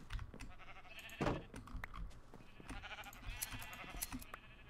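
Sheep bleat in the Minecraft SkyFactory 3 modded game near an automatic sheep-shearing farm, several short wavering calls overlapping at moderate loudness against a busy game-sound background, with no talk.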